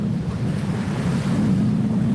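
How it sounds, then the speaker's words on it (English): Strong wind buffets the microphone over steady breaking surf on an ocean beach, a loud continuous rush with no talking. "A little windy though."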